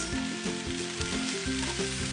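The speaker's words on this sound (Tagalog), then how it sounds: "I will quickly fry it. Add our nuts." Lettuce stir-frying with shimeji mushrooms and nuts in a hot pan, a loud continuous sizzle broken by rhythmic stirring scrapes.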